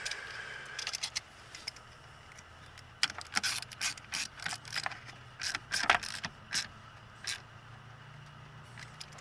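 A hand ratchet tightening the battery terminal clamp on a 2011-2021 Hyundai Elantra: short bursts of quick clicking with pauses between strokes, fairly quiet and close.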